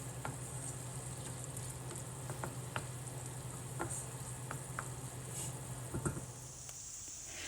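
Softened onions frying in a few spoonfuls of olive oil, a soft steady sizzle with scattered scraping taps of a spoon stirring the pan, fairly quiet and close.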